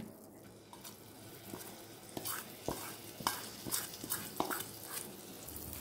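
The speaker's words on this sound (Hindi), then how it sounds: "आणि तो तेलार बरो असो परतून घेवया" Masala frying in hot oil in a pan for Goan stuffed brinjal, a soft steady sizzle with scattered clinks and scrapes of a spoon stirring, close and moderately quiet.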